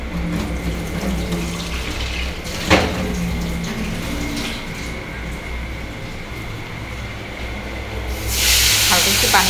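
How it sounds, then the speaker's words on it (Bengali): Water runs in a steady hissing stream into a pan of spiced rui fish curry with potatoes, continuing evenly before a louder, brighter burst of splashing near the end. "হালকা একটু পানি দিয়ে নিই,"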